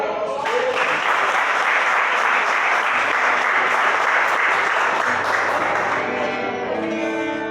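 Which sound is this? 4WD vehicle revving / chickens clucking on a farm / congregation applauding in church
congregation applauding in church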